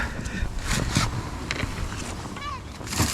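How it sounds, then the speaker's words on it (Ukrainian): A small, short boat pushes through dense bushes on water early in the season after the ice melt, giving close, repeated rustling and scraping bursts of branches against the hull, with a few brief vocal sounds. "Човник мій проходить."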